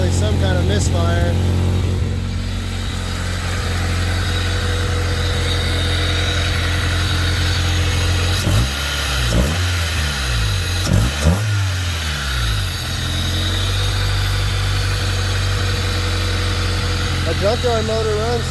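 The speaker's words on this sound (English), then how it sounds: "Got an exhaust leak. There's definitely some kind of misfire." A junkyard engine in a 1991 Honda Civic runs steadily at idle with a rough, uneven exhaust note from a leaking exhaust and a misfire, briefly rising in a few revs midway before settling back.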